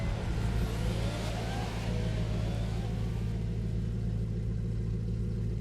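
Bugatti Centodieci, a 1700-horsepower hypercar in the racing game The Crew 2, revving with a steady, loud engine drone and low rumble that holds throughout, rising slightly in pitch early on.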